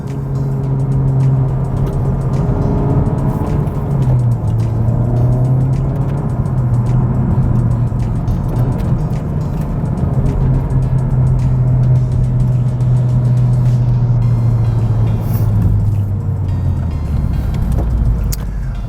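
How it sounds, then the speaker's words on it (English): In sport mode and second gear, a 2019 Honda Civic Type R accelerates with a loud, steady engine drone heard from inside, its pitch rising then dipping at a shift and climbing again. "We're gonna get some acceleration here in a second. All right, they say right less than 5 seconds or 6 seconds. All right, sport mode, second gear."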